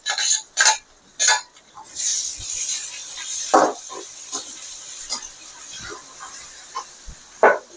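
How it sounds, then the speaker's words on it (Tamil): Onions and curry leaves sautéing in a pan for chana masala, with a steady sizzling hiss broken by sharp, close clanks and scrapes of a spoon against the pan at irregular intervals. No voices. "இப்போ நல்லா வதக்கி வேண்டியதான் வதக்கிட்டு இருக்க"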